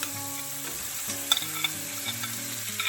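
Already-seared beef riblets returned to a pan on medium-low heat for chipotle salsa riblets, a steady crackling sizzle with tonal hum and a few brief utensil taps, no speech.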